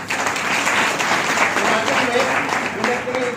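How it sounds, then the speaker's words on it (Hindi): Loud, steady applause from an audience at an RCM business gathering and birthday celebration, filling the whole stretch with dense clapping while a voice or two talks faintly underneath. "इनके लिए एक बार जोरदार तालियां"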